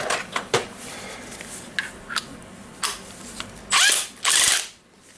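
A Makita DTW1002 cordless impact nut gun, just repaired after a faulty controller wire, fires in short bursts: several quick clicks and brief whirs, then two longer loud runs near the end, close by with no talk.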